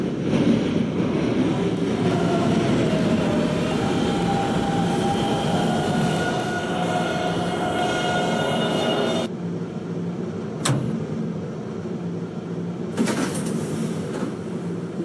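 An express train running in the video game Roblox, a steady loud rumbling drone with a tonal hum that drops off suddenly partway through, followed by a couple of brief sharp clicks.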